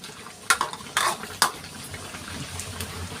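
A spoon scraping and clinking against a pot while stirring coconut milk into native chicken adobo with lemongrass, three sharp metallic knocks then a soft bubbling simmer, close and fairly quiet.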